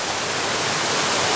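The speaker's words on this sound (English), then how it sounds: "I can hear the waterfall." Waterfall in a cave near Ubud, Bali: a dense, steady roar of falling water fills the space with broad, even hiss, constant and unbroken throughout the short moment.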